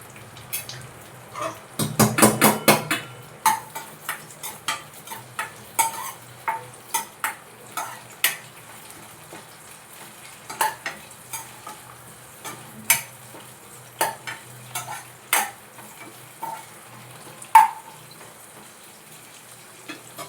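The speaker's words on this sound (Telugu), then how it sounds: "పచ్చిమిరపకాయలు, కరివేపాకు, ఎండుమిర్చి ఫస్ట్ వేయించాలండి" Green chillies, curry leaves and dried red chillies fry for a tempering, a brief loud burst of crackling sputter followed by scattered pops, taps and stirring clicks over quiet sizzling.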